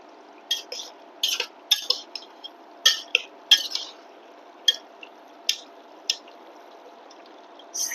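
A lid comes off a pot of chicken cooking with bean seeds, followed by scattered light clinks, taps and soft wet squishes of cookware, sparse and intermittent, with no voices.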